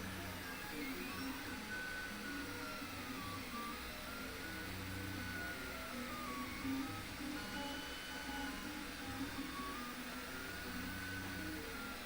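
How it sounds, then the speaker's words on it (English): A running 3D printer hums and whirs steadily at low level, its stepper motors producing shifting tonal whines over a constant mechanical drone for the whole stretch, without talk. "So next to me is a 3D printer"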